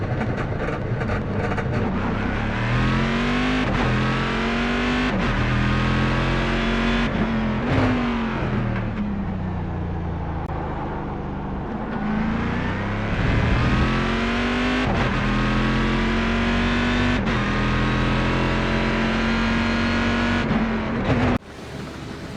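A Corvette Proto-GT race car in the iRacing game laps the Fuji circuit, its engine loud and close as it revs high, drops through shifts and climbs again over and over, alone with no talk.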